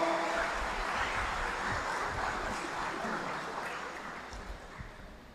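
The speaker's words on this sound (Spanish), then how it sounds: "Un aplauso para Sebas, por favor." A church audience applauds in a hall, a dense, even wash of clapping that slowly fades over several seconds with no talking.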